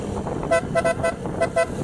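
A series of short, bright horn honks from a small vehicle, about six quick beeps in uneven rhythm over a steady engine rumble.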